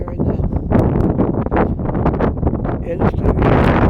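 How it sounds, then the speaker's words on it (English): Strong gusts of wind buffet the microphone on a seaside boardwalk by the Atlantic in Halifax at night, a loud, uneven rushing roar that surges and dips throughout. "the wind is blowing really hard right here"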